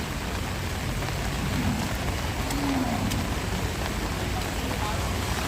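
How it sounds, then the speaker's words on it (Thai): Steady rain falls at an outdoor cattle market in Roi Et, Thailand, a dense continuous hiss of drops that fills the scene, with faint voices mixed under it. "ฝนตก"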